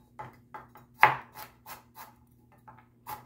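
Carrots chopped with a knife on a board for a chicken curry with vegetables: a series of crisp, evenly spaced knife strikes, one louder hit among them, close and alone without talk.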